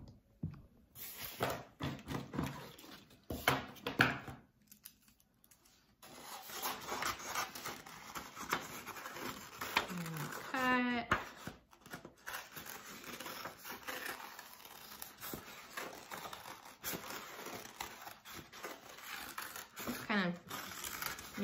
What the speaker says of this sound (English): now we're going to cut out the top of our tree